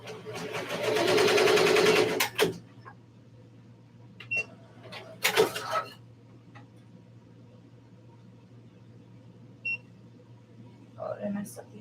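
An embroidery machine stitching a shirt design gives a brief, busy mechanical chatter for about two seconds, followed by scattered clicks and beeps in a quiet room where a voice can be heard.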